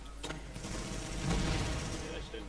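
An automatic turret in a video game fires a dense, rapid burst of gunshots, loud and continuous for a couple of seconds over a low rumble.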